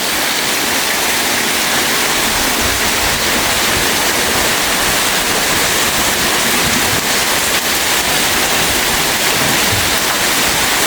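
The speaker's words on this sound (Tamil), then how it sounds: "வவுனியாவில் அடிச்சு ஊற்றுது மழை." Heavy rain pours down in Vavuniya, a loud, dense and unbroken roar of water filling the whole stretch with no voices.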